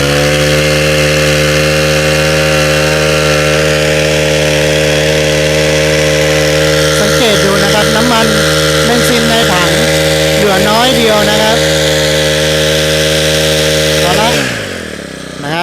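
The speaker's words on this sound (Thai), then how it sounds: "แล้วลองเกกดคันเร่งค้างไว้สัก 10 วิ กดคันเร่งค้างไว้เลย" A Honda brush cutter's small two-stroke engine screams at full throttle, a steady loud harmonic whine held for about fourteen seconds, wavering briefly in the middle before the revs drop away at the end.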